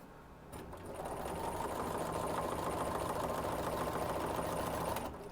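A sewing machine stitching a quilt block, starting after a brief click and running as a steady, fast mechanical whir for several seconds before stopping, close and fairly quiet.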